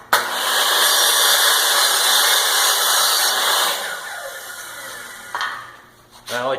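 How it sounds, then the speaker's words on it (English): Miter saw cutting crown molding, a loud whining motor with the blade biting through the wood for several seconds, then spinning down with a falling tone and a short clatter at the end. "So this part is sitting against the deck of the miter saw. We're going to cut our right piece first."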